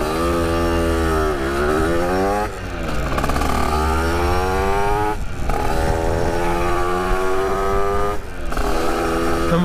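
A motorcycle ridden on a road, its engine loud and close throughout with rising and falling revs through several gear changes, brief dips between shifts, and no talk over it.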